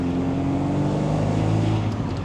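Turbocharged Fiat Abarth engine under way, a steady, continuous drone with a low harmonic growl holding level throughout, close and fairly loud with no talking.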